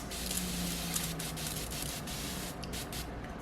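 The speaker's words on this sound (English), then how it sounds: "this is the Evian facial spray" Evian facial spray misting onto a damp beauty blender, a steady hissing spray held for several seconds, close and soft, with faint clicks from the nozzle near the end.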